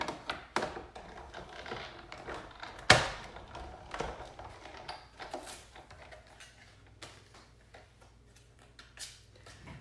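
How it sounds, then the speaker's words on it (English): A die cutting machine rolls paper through to cut a small tag for a Stampin' Up! keepsake box, giving a run of light ticking, tapping clicks with one sharper knock early on, close and fairly quiet. "go run it through the die cutting machine here"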